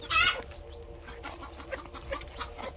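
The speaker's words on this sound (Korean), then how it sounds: "이렇게 새로운 병아리가 태어났습니다 네 마리 태어났습니다" Newly hatched chicks and adult chickens on a farm: a short, loud burst of clucking at the start, followed by faint scattered peeps and cheeps close by.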